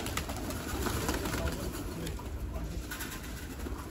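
Pigeons coo softly inside a coop, a low steady murmur of several birds under constant background noise, with no clear talk.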